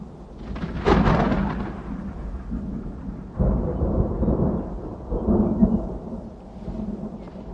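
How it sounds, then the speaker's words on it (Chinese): Sudden thunder rolls in during a stormy scene: a sharp crack swells into a deep rumble, then a second heavy roll follows a few seconds later and fades slowly, with no voices. "怎么突然打雷了？"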